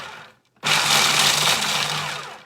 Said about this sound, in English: I've got my food processor with the metal blade here